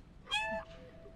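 A cat meows once in the video game Stray, a short, clear, close call standing alone over a quiet background.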